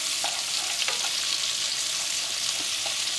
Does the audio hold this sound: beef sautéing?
yes